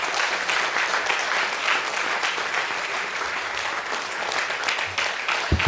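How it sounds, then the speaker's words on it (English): An audience gives a loud, steady round of applause for a group of volunteers at a vote-of-thanks event, dense clapping that holds evenly throughout with no talk over it. "a loud round of applause for them"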